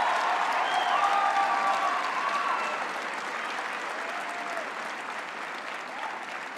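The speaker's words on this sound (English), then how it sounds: "Can you give them a hand of applause?" An audience at a university autumn graduation ceremony applauds the lecturers, sustained clapping that is strongest at first and then eases slightly, with a few faint cheers mixed in.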